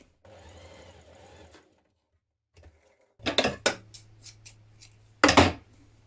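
Short bursts of a sewing machine join the short edges of a dress neckband, close by, separated by a pause of silence and scattered clicks and knocks of handling the fabric.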